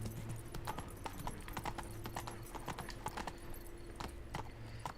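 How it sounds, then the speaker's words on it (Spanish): Steady clip-clop of horse hooves in the Resident Evil 4 remake, a quick, even rhythm running throughout over a low ambient game hum, no speech. "que no se puede ir a caballo por aquí"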